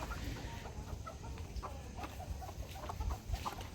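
Hens roam freely around a farmyard, giving soft, scattered clucks over a steady low background rumble, with a few louder calls near the end.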